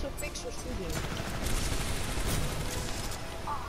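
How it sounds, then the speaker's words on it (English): Rapid gunfire bursts from the video game Titanfall 2, dense and continuous with booming low-end impacts, mixed with excited player voices talking over the shooting. "We're shooting him."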